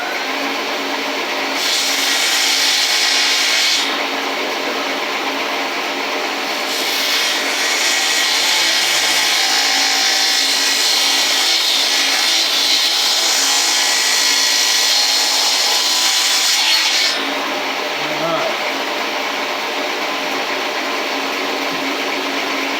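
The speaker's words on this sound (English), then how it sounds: "Cutting plywood down with this Shopsmith is actually nice." A Shopsmith power saw runs loud and close as it cuts plywood, with a whining drone that rises into harsher cutting bursts in two long stretches before settling back to idle, and no talk over it.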